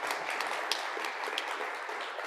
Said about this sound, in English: And just a round of applause for Martin as well, please.